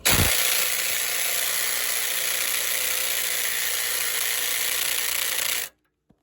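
A power tool or ratchet works on the sway bar link bolt of a Chevrolet Tahoe during a rear leveling kit install, giving one loud, steady, continuous whir close by that runs about five and a half seconds and then stops abruptly.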